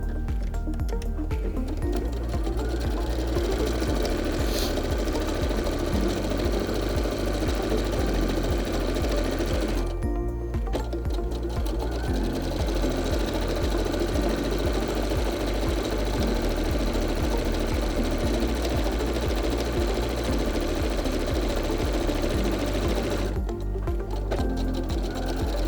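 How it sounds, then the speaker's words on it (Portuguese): Sewing machine running a straight seam edge to edge through flat fabric, a fast rhythmic mechanical clatter of needle strokes running steadily, broken by two short pauses, close and loud. "nós vamos passar uma costura de fora a fora, pé de máquina"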